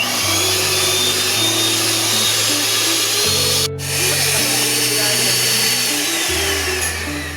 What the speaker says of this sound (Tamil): இப்போ நான் வந்து பீட் பண்ண போகிறேன். up to 5 to 6 minutes வந்து நல்லா பீட் பண்ணிக்கணும்.